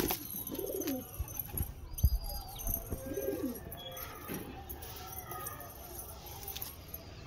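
White Bar Lalban pigeons, a breeding pair, coo in soft repeated throaty phrases at close range, with some faint background chirps and occasional low voices.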